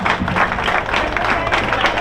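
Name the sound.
crowd applause for Remco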